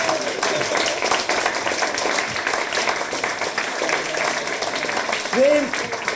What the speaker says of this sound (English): Round of applause for all competitors